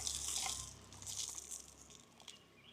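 Water poured onto a potted plant in a homemade planter made from waste materials, a soft splashing trickle that starts steady and loud, then thins into lighter drips and dribbles.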